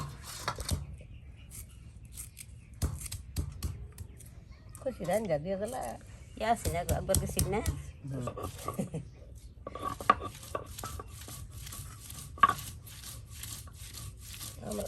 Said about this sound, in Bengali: আপনার পেঁয়াজ পাতা একদম কুচি কুচি করে কেটে নেওয়া হচ্ছে